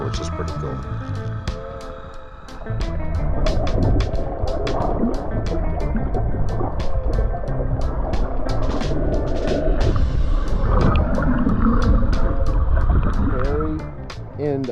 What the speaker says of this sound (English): that sound you hear is actually what boat motors sound like when you're underwater